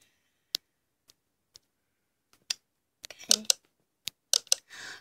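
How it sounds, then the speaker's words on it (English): Sparse, light clicks and taps from a nail game played on a device, arriving singly at first and then in quick little clusters, quiet and close, with no talk. "I like the clicking sound now."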